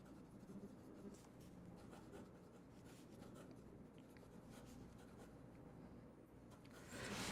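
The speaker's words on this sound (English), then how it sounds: "Fast writing." A medium nib on a Maiora Nino Marino Signature Libertà fountain pen, inked with Aurora Black, scratches quickly across paper in soft, continuous strokes, quiet and close, with no talking.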